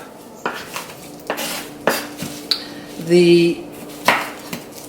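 Knife chopping tomatoes on a board for spicy tomato jam, worked with a gloved hand: a few separate sharp taps spaced about a second apart, with a brief clattering scrape and a steady low hum behind.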